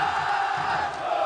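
Large football crowd at a 1979 Carioca championship match between Vasco and Botafogo in Rio, a steady dense roar of voices with shouting and cheering, sustained and even throughout with no pause.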